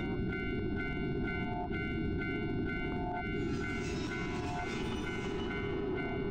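A train rolls past on the tracks at a railway crossing, a loud continuous rumble of cars and wheels under the repeated ringing tones of the crossing bell.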